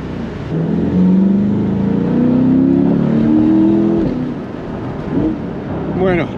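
A 2021 Corvette Stingray 2LT convertible's 6.2-litre V8 accelerates in Miami traffic, a loud rising engine roar climbing through a gear and easing off, with a brief lift and renewed pull near the end.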